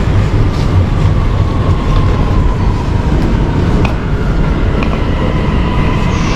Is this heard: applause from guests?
no